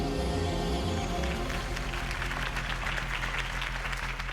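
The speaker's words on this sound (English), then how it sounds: "could have heard that applause" In the Batman Telltale game, a crowd applauds after Harvey Dent's campaign speech, a loud dense wash of clapping over a low music bed, easing slightly toward the end.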